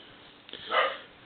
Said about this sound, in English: Sorry about my dog, he's barking right now.